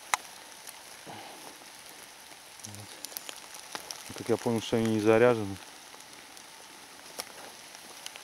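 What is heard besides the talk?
rain falling in forest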